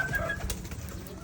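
Racing pigeon cooing softly nearby, a brief low throaty coo against quiet outdoor background.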